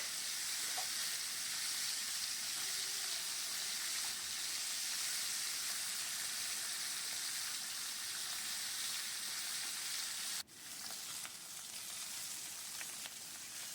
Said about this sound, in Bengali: একটু কড়া করে ভাজতে হবে